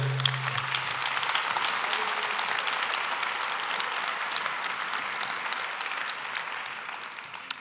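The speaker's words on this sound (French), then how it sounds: "Et pour remettre ces prix, j'accueille tout de suite sous vos applaudissements Luc Gâteau et André-Louis Lecaille." Sustained audience applause at an award ceremony for a French congress prize presentation, dense steady clapping that slowly tapers, moderately distant and without talk.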